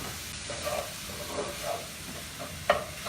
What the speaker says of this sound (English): we just want to start breaking up that ground beef with our fork or our spoon here